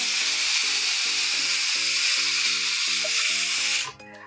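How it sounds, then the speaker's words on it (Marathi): Steady loud hiss of steam from a pressure cooker whistle on a gas stove while cooking dal makhani, running continuously for several seconds before cutting off abruptly near the end, with faint clinking underneath. "तेच धक्का लागला की लगेच शिट्टी होती"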